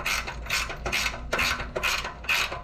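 Nuts are tightened onto the wheels of a Harbor Freight Badland 6,000 lb off-road jack, giving a close, steady run of rapid ratcheting clicks in repeated strokes.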